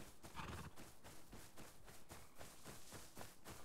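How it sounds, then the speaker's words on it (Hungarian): A horse in the survival video game Rust trots along with a steady, close clip-clop of hoofbeats that repeats evenly the whole way through. "Itt egy lovacska."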